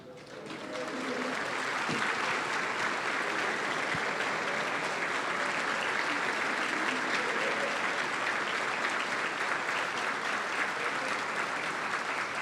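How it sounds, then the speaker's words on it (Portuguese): An audience at an awards ceremony applauds teachers, a dense, sustained wash of clapping that rises within the first second and holds steady and loud throughout, with faint voices mixed in. "que todos os professores ficassem de pé e recebessem uma salva de palmas da plateia"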